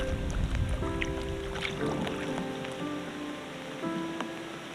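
Steady rain patters through trees over an open, rushing background at a reservoir campsite, with scattered drips and faint tonal hums running underneath throughout.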